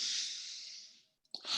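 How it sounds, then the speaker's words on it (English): A long, soft breath is drawn in through the mouth during a guided breathing exercise in a tantra workshop, fading out and then followed by a short sharp exhale and a second intake, close and alone. "Breathing in again."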